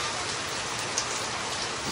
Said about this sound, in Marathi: पाऊस बघा